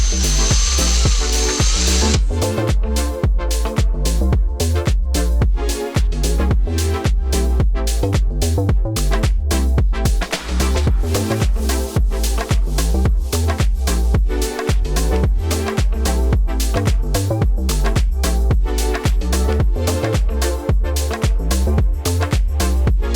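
A power tool buzzes and rasps continuously while cutting 1/8 inch masonite panels against a template, a loud, close, steady whine with rapid rhythmic pulses and no talk.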